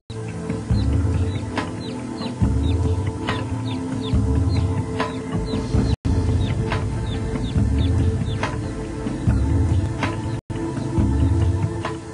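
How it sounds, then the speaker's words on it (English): Small chicks chirp with steady, high, quick peeps beside a stage magician's ark, while louder clucking from grown fowl and a busy background continue throughout. "Now another little chick."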